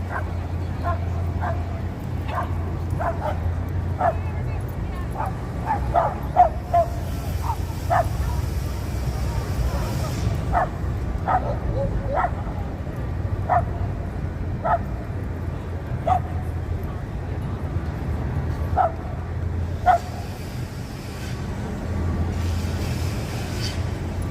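A dog barks and yips again and again on a busy downtown New York City street, sharp repeated barks over steady traffic rumble, while people talk nearby.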